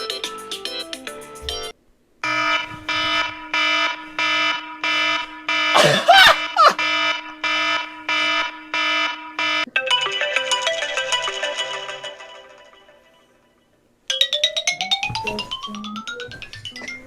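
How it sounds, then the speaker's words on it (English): Several alarm clock alarms ring one after another: a rapid pulsing electronic beep pattern, then a denser warbling tone that fades out, then a rising chirpy tune, all loud and close with a brief shout in the middle. "These alarms are the ones that I've used."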